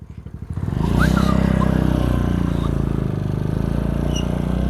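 A scooter and a motorbike start and ride off together on a hill road, engines rising quickly to a loud, steady close-range drone that holds through the clip.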